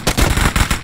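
Rapid, loud gunfire from the mobile video game PUBG Mobile during a squad match: a close burst of repeated shots in quick succession, filling the short moment with no talking.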